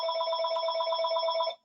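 A telephone rings with a steady electronic warbling trill that keeps going for about a second and a half and then cuts off abruptly. It is clear and close, and no one speaks over it.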